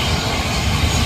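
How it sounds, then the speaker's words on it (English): A helicopter at Blackpool airport gives off a loud, dense engine roar and broadband rotor wash, steady and close throughout, with no voices over it. "is it the emergency helicopter?"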